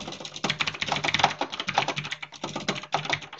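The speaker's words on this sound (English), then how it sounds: "Excuse my keyboard, it's kind of loud." Loud, rapid computer keyboard typing nearby, a fast clatter of keystrokes with brief pauses, no voices.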